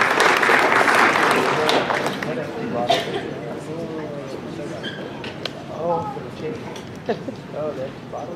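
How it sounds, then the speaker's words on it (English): A round of applause for Keyra at her baptism: a loud burst of clapping for the first couple of seconds that quickly tapers off, followed by people talking. "And keyra, let's give her a round of applause."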